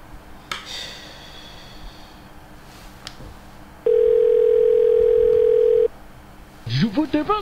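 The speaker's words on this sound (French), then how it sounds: "Encore le répondeur, mais c'est pas possible ça." A telephone line rings through to an answering machine: a steady, loud tone holds for about two seconds mid-clip, between stretches of faint room noise, and a voice follows right after it.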